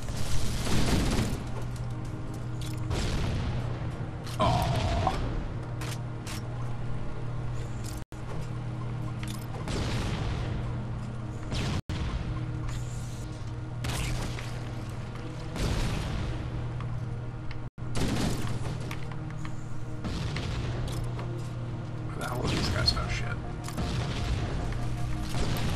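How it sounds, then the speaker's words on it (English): Explosions and bursts of gunfire from a Halo: Combat Evolved campaign on Xbox One, loud and continuous with repeated booms and rattling shots over a dense, sustained battle soundscape. "Explosion."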